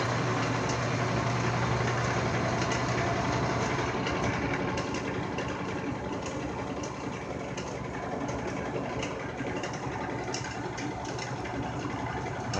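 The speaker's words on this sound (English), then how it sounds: "Let me show you what happens when I turn the lathe on for this." A lathe spins a large, thick, unbalanced workpiece that sets the whole machine wobbling, giving a steady loud low rumble and hum that holds throughout with no talk.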